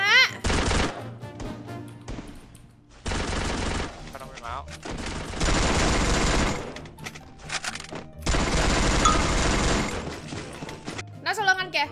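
Rapid bursts of gunfire from an M4A1 and other weapons in Free Fire, several loud sustained volleys separated by brief gaps, with voices talking between and over the shots.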